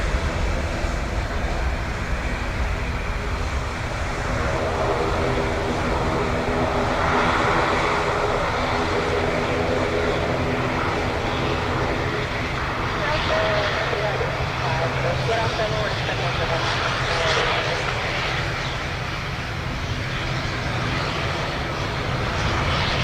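An airliner departs Dublin Airport for Brussels during reverse operations on runway 10R. Its engines give a long, steady rumble with droning tones, close and fairly loud, and voices talk through it now and then.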